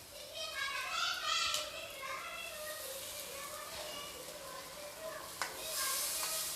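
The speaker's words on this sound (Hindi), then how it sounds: "कसूरी मेथी को भी मैं लगभग आधा से 1 मिनट तक मसालों के साथ भूनकर तैयार कर लूँगी" Kasuri methi frying with spices in a pan over low to medium flame, a steady soft sizzle with occasional stirring scrapes and a brief clink near the end.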